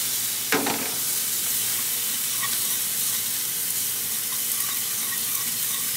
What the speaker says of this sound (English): we're going to sear off this steak 3 to 5 minutes per side